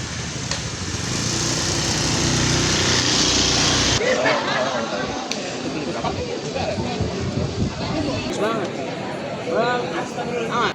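A motorbike rides past in the open air, with its engine buzz loud at first and then cut off abruptly, while people talk nearby.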